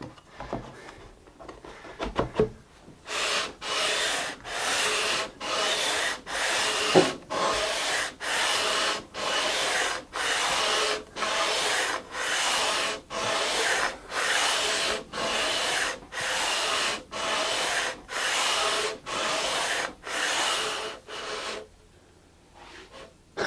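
Radius sanding a guitar fretboard by hand: about twenty even, rhythmic back-and-forth rasping strokes of abrasive on wood, each lasting under a second with brief gaps, steady and close, with faint handling noises before and after.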